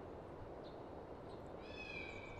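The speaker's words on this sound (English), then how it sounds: "Cat fell down the well." A cat meowing from down a well in the Harry Potter and the Philosopher's Stone video game, one faint drawn-out meow late in the clip over a quiet background hum.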